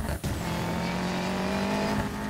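Nissan Fairlady roaring uphill in Need for Speed Payback, a loud, steady high-revving engine drone that holds constant throughout after a brief dip at the start.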